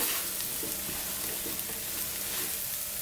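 Egg frying on a hot griddle for street-food omelette pav, a steady close sizzle with faint crackles and no talking.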